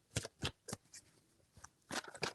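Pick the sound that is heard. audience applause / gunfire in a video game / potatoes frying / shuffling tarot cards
shuffling tarot cards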